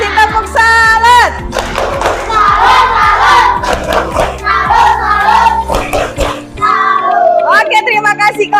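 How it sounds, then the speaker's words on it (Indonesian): A fifth-grade primary school class gives a rhythmic clapping salute, with loud, close claps and thumps mixed with children chanting and shouting together in unison. "Kasih tepuk salut."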